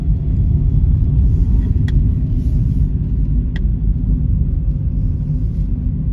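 A car driving along a twisty coastal road on the Antrim coast, a steady loud low rumble of engine and road noise heard from inside, with a couple of faint clicks.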